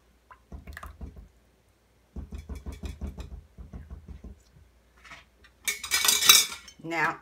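Spoon clinking and scraping inside a container while elderberry tea for goat's milk soap is stirred, two bursts of rapid rhythmic taps, then a brief louder splashy rustle near the end, close up.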